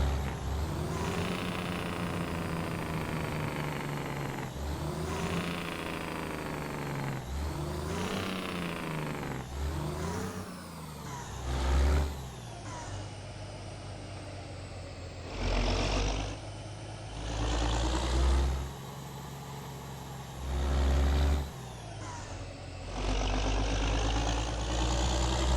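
Jake brake on an International 9900i truck in a video game mod, a loud, close engine drone with deep rumbling bursts that repeatedly swell and cut off, plus hissing air brake releases.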